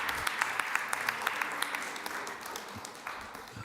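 At a Springfield city council meeting, the audience in the chamber gives a round of applause for a school athletic director, with quick, scattered claps sounding faint and somewhat distant and tapering off toward the end.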